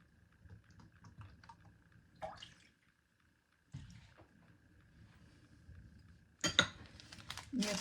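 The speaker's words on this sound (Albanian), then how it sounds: "i përzinim të gjitha përbërës me tel të dorës" Eggs, oil, milk and baking powder for baklava batter whisked by hand in a bowl, giving sparse metallic clinks and light scraping that grow louder and busier near the end, with no one talking.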